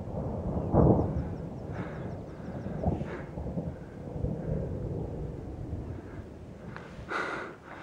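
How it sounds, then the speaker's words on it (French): Thunder from a storm over mountain lakes in high country rolls and rumbles in low, sustained waves. Soft breathing-like swells sit close in front, and a brief, louder crack comes near the end. "Écoutez le tonnerre, hein."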